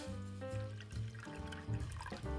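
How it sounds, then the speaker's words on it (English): Water is poured into a pan on the heat to make a double boiler, a quiet trickling and splashing that comes in short, uneven bursts over a low tonal hum. "pour in some water to create your double boiler"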